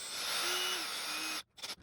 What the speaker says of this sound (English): So I'm gonna grab my drill here just because it's a little bit easier.